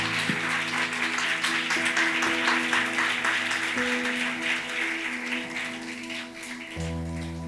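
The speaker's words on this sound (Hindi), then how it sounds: "आइए मिलकर इन सब के लिए जोरदार ताली बजाएं" Congregation at a church service applauding loudly, a dense sustained wash of clapping that runs throughout under sustained music.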